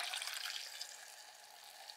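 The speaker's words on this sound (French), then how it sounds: "On complète avec 625 ml d'eau." Water is poured into a blender with fine chickpea flour for homemade soy-free tofu, making a soft, steady splashing trickle that fades slightly over its short duration, faint and alone.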